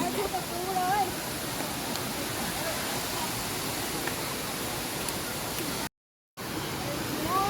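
Steady, rushing water noise fills the whole clip, a broad continuous roar of Chet Sao Noi waterfall in Muak Lek, Saraburi, Thailand, with a brief dropout near the end.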